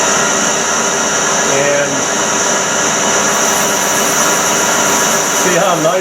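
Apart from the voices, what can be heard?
machine boring a carburetor, metal cutting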